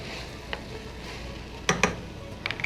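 A utensil stirs softening vegetables in a hot pan, a few sharp scraping clicks against the pan over a soft steady sizzle, close and moderately loud.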